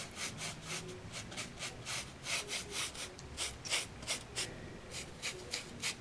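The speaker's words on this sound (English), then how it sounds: "keep rubbing the ballast too long, it starts loosening up the ballast" A rhythmic rubbing and scraping as painted ballast is worked on a model railway track, with quick, evenly spaced close strokes and brief pauses, fairly quiet and without speech.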